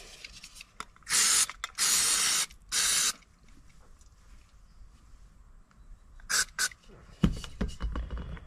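Carb cleaner hisses into a small non-genuine mini bike carburettor in three close, loud bursts, then two shorter puffs later, with quiet handling noises and clunks between.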